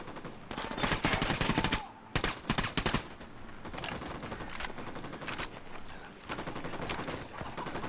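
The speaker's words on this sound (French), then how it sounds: "je vais le déglinguer avec mon fusil" Rifle fire in the Ghost Recon Wildlands video game comes in dense rapid bursts and sustained volleys, loud and crackling with brief pauses between strings of shots, and voices talk faintly underneath.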